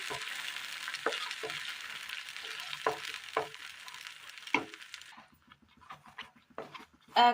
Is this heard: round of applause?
no